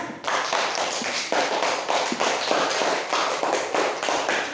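A classroom of students claps for a group after a school lesson, a dense, steady patter of hand claps with rhythmic swells, moderately loud and without talk.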